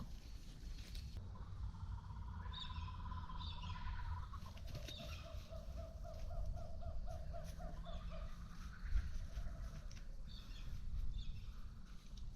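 Various birds call outdoors in the morning, with repeated chirps and whistled phrases at a moderate distance over a low background rumble, occasional rustles and no talking.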